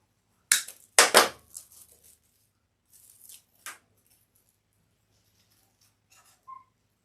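Scissors snip through deco mesh for a Mardi Gras wreath, giving a few sharp close cuts early on, then softer scattered snips and rustles in an otherwise quiet room.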